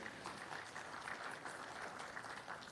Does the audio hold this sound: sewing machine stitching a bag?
no